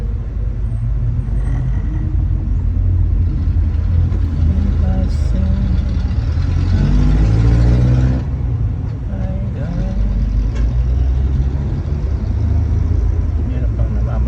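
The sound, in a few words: heavy road traffic at Antipolo Masinag Market, Manila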